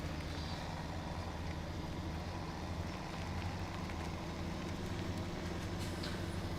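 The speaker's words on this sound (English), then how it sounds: "These motors sound, I mean, they really sound like tractors" Low, steady engine drone from tractors in the Farming Simulator 17 video game, a continuous rumbling hum with a beefy growl at even loudness throughout.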